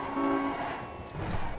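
A vehicle horn blares in a sustained, loud tone inside a car, with faint rumble and road noise continuing afterward.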